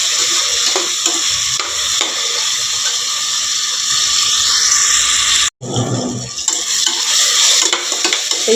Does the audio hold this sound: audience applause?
no